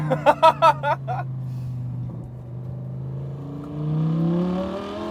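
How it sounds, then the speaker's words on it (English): A modified 2014 Lamborghini Gallardo LP560-4 Final Edition V10 drives along with a steady low engine drone that swells near the end, after a short burst of voices at the start. "Okay, you guys, we are driving a Gallardo."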